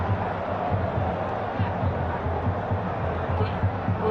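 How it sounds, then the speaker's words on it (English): Steady stadium crowd roar from the football game FIFA during a match between Italia and Fluminense, a dense continuous murmur with faint rhythmic thumps beneath a commentator's voice. "The crowd agreeing with your sentiments exactly."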